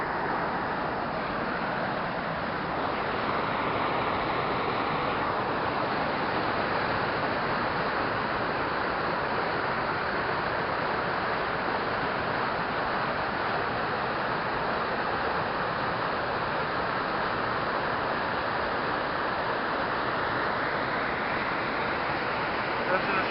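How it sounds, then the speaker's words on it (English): A powerful waterfall in Scotland rushes and roars as a broad, constant wash of noise heard up close, steady throughout without any break. "The power in this waterfall is incredible,"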